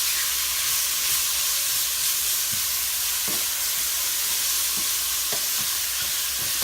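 Sausage and onions sizzle steadily in a hot pan, a constant bright frying hiss with occasional soft pops and stirring knocks, heard up close with no talking.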